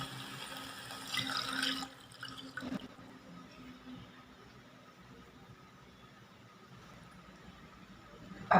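Milk is poured into a pot of cooked garlic for kheer, a brief liquid splash and gurgle up front, followed by a long quiet stretch of low simmering and faint drips.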